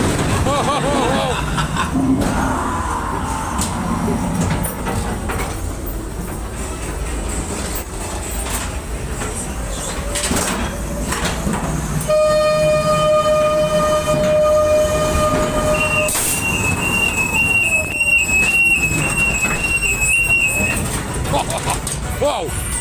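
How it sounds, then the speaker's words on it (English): A ghost train fairground ride at a travelling fair, an XL four-tier ride, rumbles loudly and continuously on its track, with a long steady tone and later a high electronic beep pattern over it, while riders shout and talk throughout. "ghost train"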